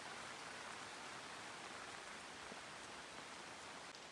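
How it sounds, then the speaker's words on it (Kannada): Rain falling steadily near a house, a dense, even hiss of drops with no breaks, faint and continuous with nobody speaking. "ಮಳೆ ಬರುವಾಗ ಎಷ್ಟು ಚಂದ ಕಾಣ್ತದೆ ನಮ್ಮ ಮನೆ ಹತ್ರ"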